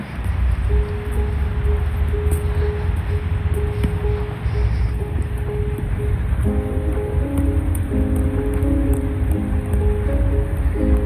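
Rain falls steadily across a Tashkent city street near Chorsu Bazaar, a dense even patter and hiss filling the scene, while faint tonal hums and distant sounds rise softly beneath it toward the end.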